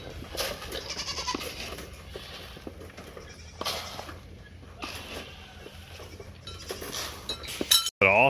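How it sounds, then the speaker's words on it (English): Several goats bleat loudly and repeatedly at feeding time, their overlapping cries rising in bursts over soft farmyard noise. "So Samantha's now feeding the boys, or all the goats."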